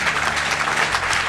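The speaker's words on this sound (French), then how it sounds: "Et on les applaudit bien fort, tous les 4." Applause from an audience for four award recipients at a ceremony, thick and continuous, with no break through the moment.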